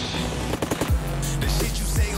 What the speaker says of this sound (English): you can't have gunshots on the song.